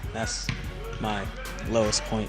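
A basketball bounces repeatedly on a court during jump shot practice, several solid thuds at an uneven pace, close by, under a young player's talking voice.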